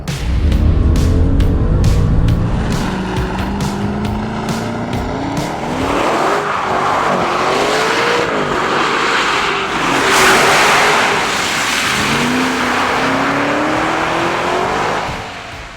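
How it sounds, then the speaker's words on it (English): A Maserati Ghibli 334 Ultima V8 revs hard and drives past, engine pitch rising and falling through gear changes with tyre noise, loud and close, no voices. "We're here to say goodbye to the V8, to listen to it one last time."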